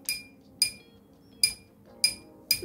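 Glass clinking in sharp, bright strikes, five separate taps spaced about half a second apart over a quiet room background, with no talking.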